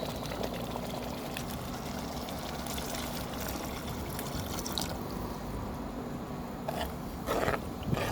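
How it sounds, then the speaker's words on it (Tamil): Water is poured into a fish curry mixture of Koduvaa fish with coarse salt, giving a steady splashing pour with soft drips and a few clinks near the end, and no voices. "தண்ணி ஊற்றிக்கலாம்."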